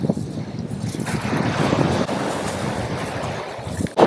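Waves washing onto a beach in the Pyrénées-Orientales, France: a steady, broad rushing surge mixed with gusty wind noise against the microphone, with no talk.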